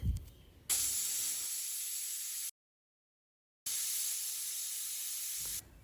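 A pressure cooker cooking bitter gourd curry with onion and tomato hisses steam in two long, steady blasts separated by a short silence, fairly close and alone without talk.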